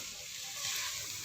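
Soft, continuous sizzle of grated carrots for gajar ka halwa roasting in a hot pan, faint and steady without any voices.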